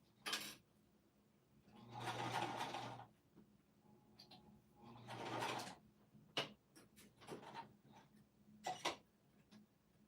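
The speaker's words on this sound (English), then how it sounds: "this is sewing really beautifully on my machine." Home sewing machine stitching piping onto a fabric pouch, running in two sustained bursts of whirring needle action separated by pauses with small clicks and handling taps, fairly quiet and close.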